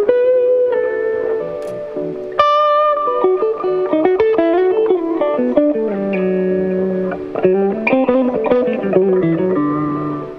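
Overdriven electric guitar through an old 808 Tube Screamer pedal set halfway, moderate crunchy gain, playing chords and single notes loudly and continuously, with no voices.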